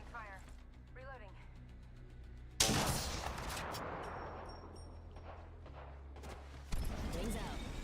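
Gunfire from Apex Legends cracks in two loud bursts amid game sounds, with short rising electronic chirps and clicks before and after, mixed with in-game voices.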